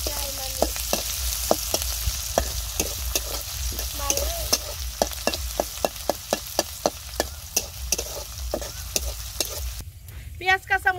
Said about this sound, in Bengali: পেঁয়াজ কাঁচামরিচ খুব ভালোভাবে ভেজে নিয়েছি